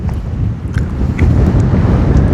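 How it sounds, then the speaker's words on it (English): Wind rushes steadily across the microphone at 974 Beach in Qatar, a low continuous rumble that swells slightly toward the end, with no voices. "The wind, it's a bit windy."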